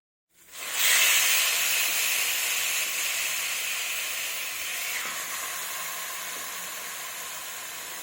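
Mutton dropped into a hot wok bursts into a loud hissing sizzle after a moment of silence, then settles into a long, steadily fading hiss with faint crackles.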